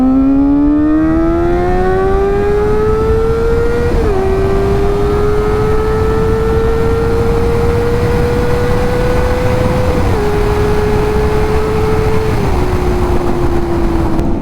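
Kawasaki ZX-4R motorcycle revving hard on the road: a loud, high-pitched inline-four engine wail climbs steadily through the gears, dipping briefly at each shift, over constant wind rush.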